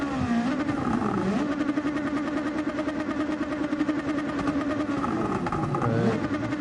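A car engine in Gran Turismo 7 revs hard and steadily with the throttle held fully down, its pitch wavering up and down, loud and continuous throughout.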